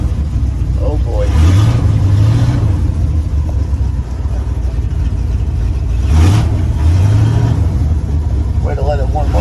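A 1989 dump truck engine runs with a deep, loud rumble, rising in two distinct revs that climb and fall back, while people talk over it.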